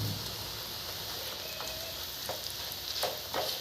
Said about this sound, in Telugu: ఇప్పుడు అటుకులు వేపుకుందాం.